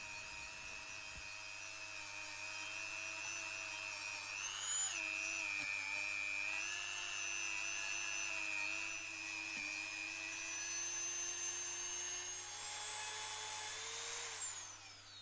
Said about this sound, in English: I now use little sanding discs on the Dremel to polish the welds, getting in between the fins the best I can